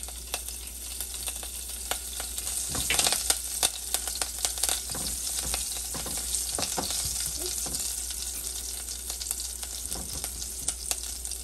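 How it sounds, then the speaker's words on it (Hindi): Cumin seeds and chillies splutter in hot oil while sabudana khichdi is cooked. The oil gives a dense, close crackle of sharp pops and hissing bursts that swell midway, then settle into a lively, continuous frying sizzle. "जीरा हल्का हल्का सा स्प्लिटर हो रहा है। अब हम डाल रहे हैं मिर्च"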